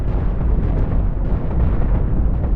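Heavy cannon fire and explosions from a large space fleet battle in the ship-building game Cosmoteer form a dense, continuous low rumble of overlapping blasts at steady loudness.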